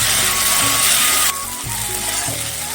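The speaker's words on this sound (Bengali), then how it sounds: "কাঁচা লঙ্কাটাকে একটু ভেজে নিয়েছি" Green chili paste sizzling and frying steadily in hot oil in a pan, a continuous close hiss with occasional stirring scrapes, no talking.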